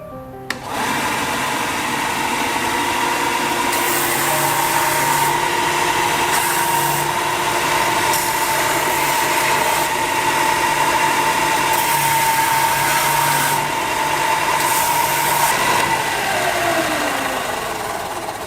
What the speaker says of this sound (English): Once we've got the edges basically rounded with the belt sander